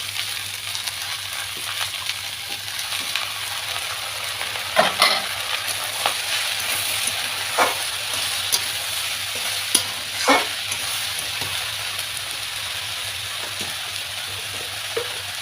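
Mung dal and bottle gourd being stirred and fried in a pan: a steady sizzle runs throughout, with occasional scraping clinks of a spatula against the metal, close up.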